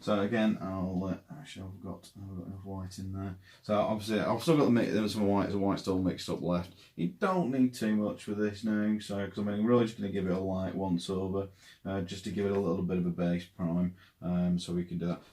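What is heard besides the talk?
No distinct noise like a dog, phone or traffic.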